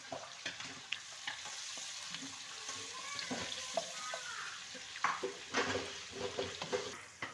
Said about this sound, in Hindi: अब हम तड़का लगाएंगे।